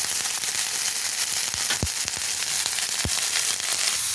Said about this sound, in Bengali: একটু ভাজা হয়ে যাক কপিটা